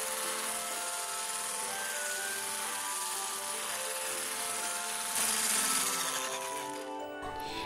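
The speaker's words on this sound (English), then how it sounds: "using an electric mixer just makes the task faster" An electric mixer whirs steadily while mixing egg and vanilla into cookie dough, a faint even motor drone that briefly gets louder before cutting off near the end.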